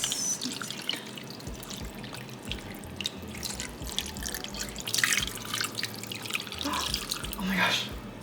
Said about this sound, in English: So we've got our beef broth and red wine.